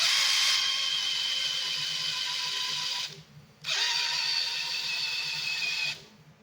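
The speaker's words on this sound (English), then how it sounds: "That's just with the hand drill." Hand drill spinning an engine over to prime it with oil after long storage: a steady high whine runs for about three seconds, stops briefly, then resumes for another three seconds before cutting off.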